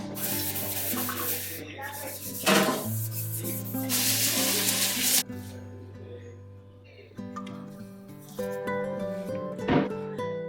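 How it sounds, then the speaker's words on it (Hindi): A kitchen cooktop being scrubbed clean at home, heard as steady close rubbing and wiping strokes that surge in loud bursts over a bed of sustained tonal hum, with no talking. "और लास्ट में मैं कुकटॉप क्लीन कर लेती हूँ"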